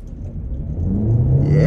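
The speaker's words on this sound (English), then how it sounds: "Off the line. And on the gas." A 2023 Hyundai Elantra Limited Hybrid pulls off the line in sport mode, its low rumble rising into a steady climbing whine as it accelerates, heard from inside the cabin.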